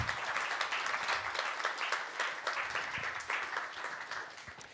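An audience applauds steadily as a speaker is welcomed to the front at a public talk on Pacific influence, with dense, sustained clapping at even loudness throughout.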